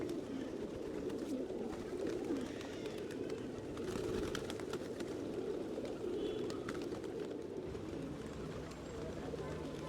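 Pigeons coo softly and continuously in the courtyard of Hakim Shah Baba Masjid in Jubilee Hills, Hyderabad, a steady murmur of calls under a busy outdoor background with occasional voices.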